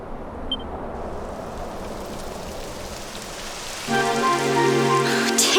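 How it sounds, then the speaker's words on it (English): Steady rain hisses across the ground in Dragon Quest XI, a dense even patter throughout, with game music rising over it in the final seconds. "It would have to go and start raining, wouldn't it?"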